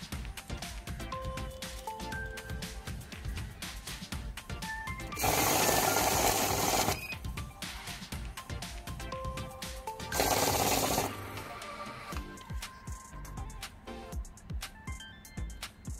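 A Godrej heavy-duty fake note detector machine whirs mechanically as it feeds banknotes, with two loud bursts of rapid riffling as stacks of notes are counted through, close up and with no voices.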